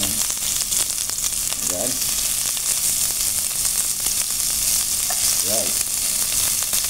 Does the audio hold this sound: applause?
no